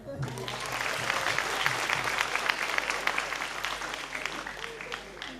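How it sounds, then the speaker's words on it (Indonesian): Audience applause after a breakdance show: a crowd clapping steadily at moderate volume, a little distant, building slightly and then thinning toward the end, with faint background noise beneath. "tepuk tangan dong"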